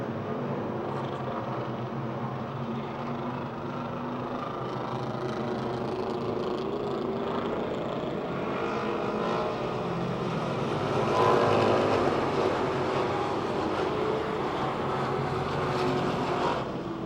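Dirt track race cars roar around the oval at Pennsylvania Motor Speedway near Pittsburgh. The engines make a dense, continuous drone that swells and fades as the pack passes, rising loudest near the middle.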